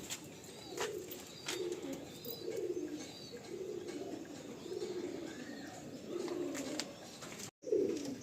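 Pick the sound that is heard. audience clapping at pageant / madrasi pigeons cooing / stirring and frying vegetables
madrasi pigeons cooing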